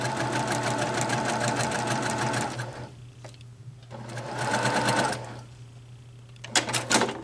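A sewing machine stitches a quilt seam in quick rapid bursts, running steadily, pausing, then running again, with a short final burst, close and clear with no talk.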